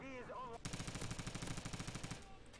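Skorpion submachine gun in the video game Modern Warfare, one fast, even automatic burst of about a dozen close shots, preceded by a brief voice.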